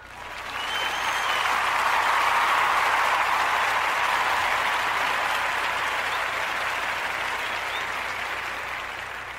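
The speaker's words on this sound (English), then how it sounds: "So I want to give Mr. Hank Commodore a round of applause," An audience applauds loudly and continuously for several seconds, a dense wash of clapping that swells quickly and slowly fades.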